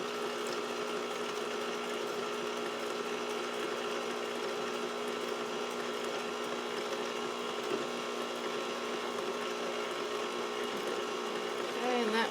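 Electric kitchen mixer running on low, whirring steadily as it blends pudding mix and milk for an Oreo dirt cake, with a constant motor drone throughout.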